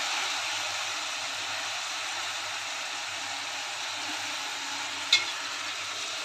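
Soaked toor dal is tipped into a pan of cluster bean (gavar) sabzi and stirred, giving a steady, even sizzle that holds throughout, with one brief clink near the end.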